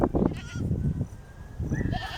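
Goats bleating at pasture alongside grazing water buffalo and cattle, several close, loud, wavering bleats in two bursts with a short gap between them.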